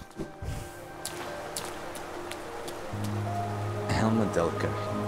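Steady hiss of a rain downpour in the video game Hollow Knight, a continuous wash under soft in-game music notes, with a person talking over it.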